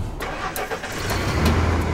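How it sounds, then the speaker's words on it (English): A car engine cranks and catches on a frigid early morning at an Arctic airport ramp in Hay River, with rapid starter chugs building into a low, loud rumble. "it's my job to start the cars"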